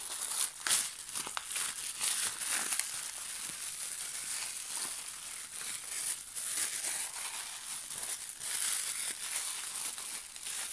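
Plastic packaging from an AliExpress parcel crinkles and crackles continuously at close range as it is torn open, with irregular bursts of rustling and no voices.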